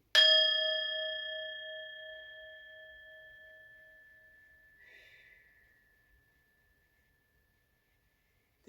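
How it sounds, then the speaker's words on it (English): A single bell is struck once, and its bright ringing tone fades slowly over about five seconds. A faint breathy sound follows before the clip falls almost silent. "Let's ring the bell."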